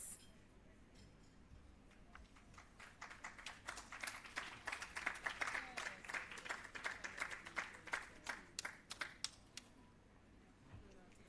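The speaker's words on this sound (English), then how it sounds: "A round of applause, ladies and gentlemen, for graduates from Tivoli Gardens" Audience applause at a restorative justice facilitator graduation ceremony, swelling into a dense, sustained round of clapping before tapering off. The claps are fairly distant and moderate in loudness, with no talk over them.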